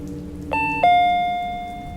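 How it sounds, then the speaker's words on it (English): A two-note ding-dong door chime rings out clearly against a steady background hiss, the second tone ringing out and slowly fading. "the door chime went off again."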